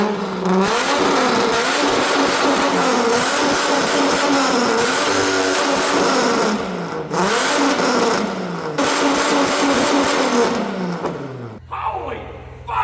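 A Ford car fitted with a stainless straight pipe exhaust revs hard and loud, its engine climbing and falling in repeated bursts with a brief dip between pulls, then settling near the end.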